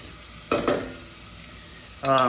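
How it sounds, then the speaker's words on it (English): Dried oyster mushrooms sizzle and get stirred in butter in a pan, with two short bursts of frying noise separated by a quieter gap, then a louder sustained sizzle near the end. "we're gonna cook these for about 5 or so minutes in that butter until it gets soft"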